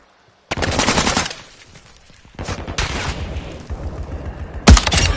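Automatic gunfire in Call of Duty Modern Warfare 2 multiplayer, loud bursts of rapid shots that start abruptly, fade, and return in a second long burst, ending with a sharp louder blast.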